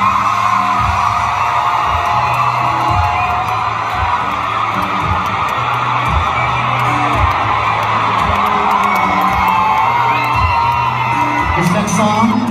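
A big crowd of women screams and whoops steadily, high-pitched and sustained, over a pulsing low beat at a live concert.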